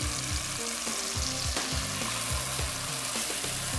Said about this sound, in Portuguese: Vou suar bem esses ingredientes e vou acrescentar a carne moída.